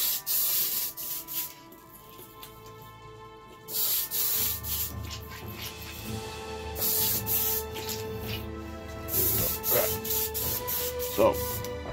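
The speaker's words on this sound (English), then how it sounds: "So now, clean our airbrush," Airbrush being cleaned while painting a miniature's base, bursts of hissing spray that start and stop in short irregular blasts, close by, with someone talking over parts of it.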